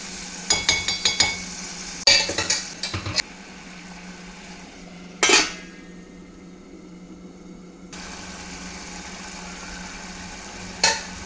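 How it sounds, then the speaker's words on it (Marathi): Masala being sautéed in a pan, with sharp clusters of spoon clinks and scrapes against the pan over a low steady background, followed by quieter stretches. "हे छानपैकी परतून घेऊया।"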